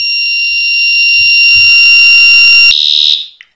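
A bicycle siren alarm sounds as a loud, steady electronic wail that holds for about three seconds, then shifts to a harsher pulsing tone before cutting off abruptly.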